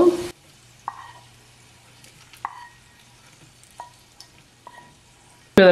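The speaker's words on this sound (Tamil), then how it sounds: "நல்லா மிக்ஸ் பண்ணி விடுங்க" Beaten egg being stirred together with fried onion and dried chillies for an omelette, with soft, sparse spoon knocks against the bowl and louder handling bursts at the start and end; no talking.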